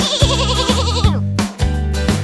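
Cartoon goat bleats in a Turkish children's song: wavering, bleat-like tones ride over a bouncy musical backing and repeat in short bursts.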